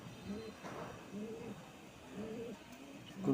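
Inside a loft of Rajshahi tumbler pigeons, a pigeon gives soft, low coos in a steady repeating rhythm, about four phrases in three seconds, quiet against a faint background hiss.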